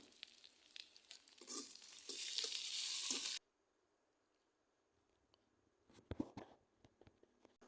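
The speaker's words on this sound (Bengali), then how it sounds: "এখন মশলাটাকে আমি একটু সুন্দর করে কষিয়ে নেব।" Ground turmeric, chili and coriander masala sizzles loudly in a pan for a few seconds, stops abruptly, then after a quiet pause returns as softer scattered sizzles and stirring scrapes.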